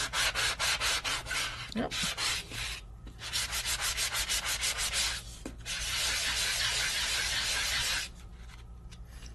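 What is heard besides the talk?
sanding the back side of a Sizzix stencil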